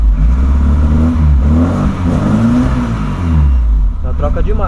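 The turbocharged engine of a VW Voyage car revs repeatedly nearby, its pitch climbing and dropping in several loud, rolling waves before settling into a rougher rumble at the end.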